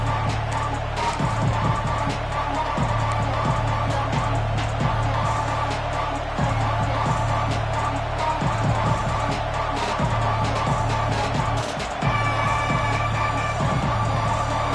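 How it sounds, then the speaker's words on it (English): Football stadium crowd cheering in a continuous loud roar, with a repeating rhythmic low drum-like pattern pulsing underneath throughout. "This crowd ready to make its presence known."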